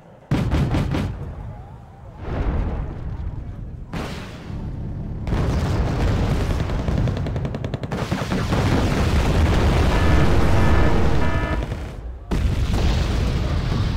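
Anti-tank weapon fire and explosions in the strategy game Wargame: Red Dragon: heavy booming blasts that start abruptly and repeat, with long rumbling tails filling the gaps and brief quiet breaks between volleys.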